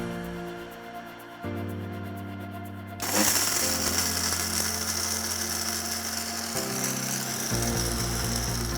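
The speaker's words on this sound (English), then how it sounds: "All of those beautiful spices are in my little masala grinder." Small electric masala grinder whirring as it grinds whole spices, starting with a low hum, then surging into a loud, steady, harsh grinding roar that shifts pitch near the end, close up with no talking.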